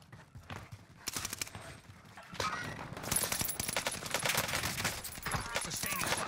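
Rapid gunfire from a Welgun and other weapons in Call of Duty: Warzone, with dense overlapping bursts that build to sustained loud shooting, mixed with game voice lines.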